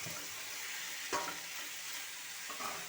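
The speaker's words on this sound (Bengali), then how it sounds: "আলুর সঙ্গে মশলা ভালো করে মিশিয়ে নেব।" Fried potatoes tossed with spices and chopped cashews in a pan for aloo dum, a steady soft sizzle with one brief scrape of stirring, near and alone.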